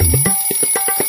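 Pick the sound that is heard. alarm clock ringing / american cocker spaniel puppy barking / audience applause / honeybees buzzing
alarm clock ringing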